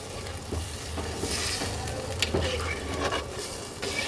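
Chicken and spices stir-fried in a pan with a splash of water, a steady close sizzle with spoon scrapes and stirring clatter throughout, no voices.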